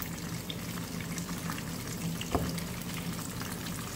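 Fish coated in wheat flour fries in hot oil, a dense, steady crackling sizzle that stays close and even throughout, with no talk over it.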